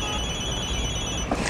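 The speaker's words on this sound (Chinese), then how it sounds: "他的电话，你们陈总，怎么回你决定。" A telephone rings with a steady electronic tone held throughout, close and moderately loud, without speech.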